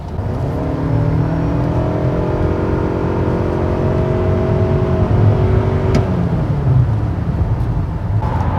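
A Toyota Camry Hybrid pulls onto the highway in sport mode and accelerates with a steady, rising engine and motor drone. Road and wind noise roar beneath it, with a brief thump near the end.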